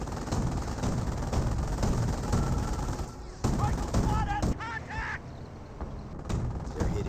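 Rapid bursts of small-arms and machine-gun fire from a Company of Heroes battle crackle continuously, with game voice callouts and unit chatter mixed in over the steady din of combat.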